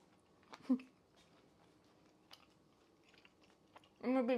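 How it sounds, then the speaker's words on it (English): Soft wet chewing and crunching of a taco, a few close bites at intervals and then a louder burst of mouth sounds at the end, quiet overall. "I'm gonna be chewing forever now."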